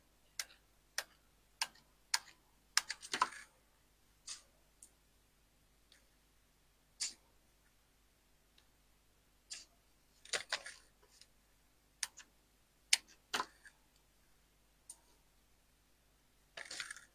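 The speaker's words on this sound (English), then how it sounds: "Scissors" Scissors snipping through paper during card making, a series of sharp, close, isolated clicks and short crisp cuts spread out with pauses, some in quick clusters, otherwise quiet.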